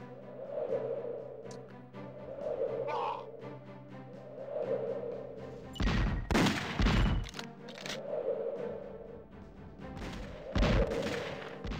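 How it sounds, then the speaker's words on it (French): Explosions in the Superman Nintendo 64 video game: two loud, crackling bursts stand out over a quieter looping game soundtrack with smaller pops. "Je me suis pris l'explosion."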